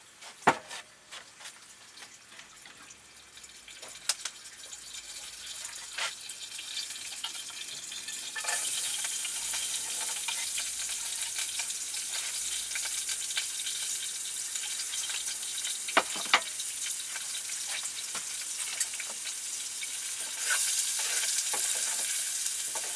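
Onions hit hot oil in a pot and sizzle, quiet at first and then swelling into a steady, loud frying hiss with a few clinks of stirring, all without talk.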